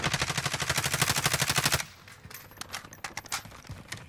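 Call of Duty gunfire opens with a rapid, loud automatic burst of evenly spaced shots, then breaks into scattered, fainter single shots and impacts farther off.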